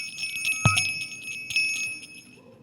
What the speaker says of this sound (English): He stood, holding the bell high above him